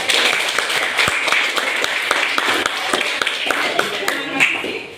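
A classroom of students applauds: steady, fairly loud clapping from many hands, continuous for several seconds.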